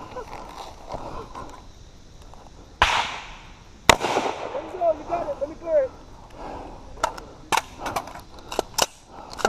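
Live gunfire on a shooting course, fired while the shooter walks forward toward cover, sounds as a few sharp, loud cracks spaced irregularly, with an instructor's voice talking between and under the shots outdoors.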